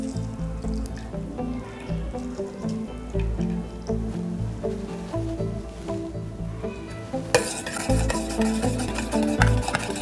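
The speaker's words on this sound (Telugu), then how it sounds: "బాగా ఈ వాటర్లో ఇది కలవాలండి" A tan-removal face pack with squeezed orange is stirred into water, a soft wet swirling and squishing with gentle clinks, continuous and close, growing brighter and louder near the end.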